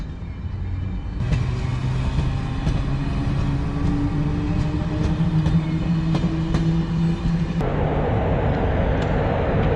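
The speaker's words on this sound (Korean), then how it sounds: "기차가 되게 작네" A small old passenger train with wooden doors rumbles steadily along the tracks near Konjic, Bosnia, with rhythmic clicking of wheels, heard from inside, loud and continuous without voices.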